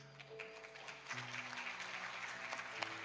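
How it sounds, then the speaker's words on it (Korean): Congregation applauding during a Korean church service in Orange County, a soft, steady patter of many hands heard from a distance, with sustained tones from the room underneath. "한번 축복으로 환영하며 박수하겠습니다"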